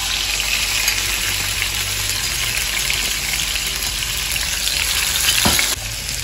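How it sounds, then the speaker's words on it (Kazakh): Onion and tomato fry in oil in a pan, the base for scrambled eggs. A loud, continuous hiss and crackle runs throughout, with stirring scrapes, until a slight drop near the end. "Ал пиязымыз, помидорымыз біршама қуырылды"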